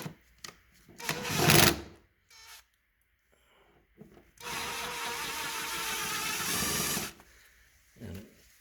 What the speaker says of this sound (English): put a little slot in it with the grinder